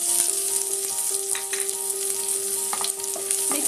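Onion and curry leaves frying in a spoonful of hot oil, a loud close crackling sizzle with scattered pops and spatters, steady throughout with a faint tonal hum underneath.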